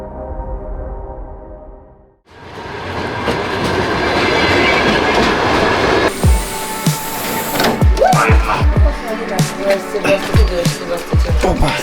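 A train rolls along rails inside abandoned underground catacombs, with loud broadband rumble and rhythmic clatter from the wheels, which grows into sharp clanks and squeals toward the end.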